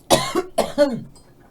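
Several harsh coughs close to the microphone, coming in two quick pairs, then trailing off into quiet.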